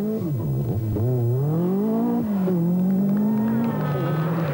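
Walter Röhrl's Audi rally car at the 1985 Monte Carlo Rally, its engine revving hard and close with rising and falling pitch as it accelerates and shifts, continuous and loud with no other sounds over it.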